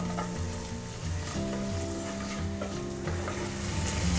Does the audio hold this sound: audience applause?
no